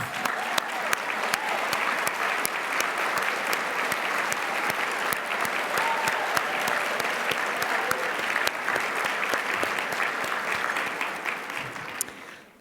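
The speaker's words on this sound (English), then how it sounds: "Let's give them a big round of applause" Awards-event audience applauding honorees, a sustained, loud wall of clapping from a large crowd that stays even for several seconds before cutting off at the end.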